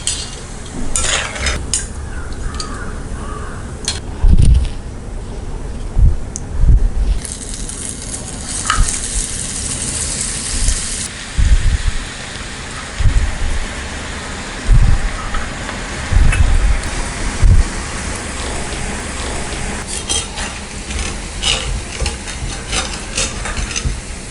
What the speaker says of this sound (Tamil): இதே மாதிரி நம்ம எல்லா மாவையும் டீப் ஃப்ரை பண்ணி எடுத்துக்கலாம்.